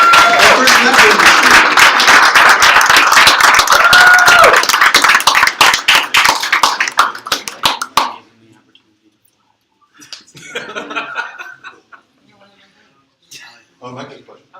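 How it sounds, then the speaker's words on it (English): A small audience at a tech meetup claps loudly for a group of presenters, a dense burst of applause with voices mixed in that thins into scattered claps and stops after about eight seconds, followed by faint, sparse talking. "Let's give these guys a round of applause"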